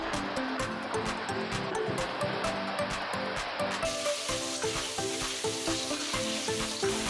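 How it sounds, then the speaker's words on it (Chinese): Sea snails are stir-fried in red chili oil in a wok, producing a loud, continuous sizzle with a rough churning texture from the stirring, with music playing underneath throughout. "就倒入备好的花螺，翻炒均匀，要让花螺均匀的裹上一层红油"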